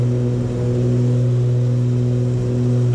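Aerostar 700 twin-engine aircraft accelerating on its takeoff roll, a loud, steady engine drone with strong low tonal hum heard close from the cockpit, continuous throughout.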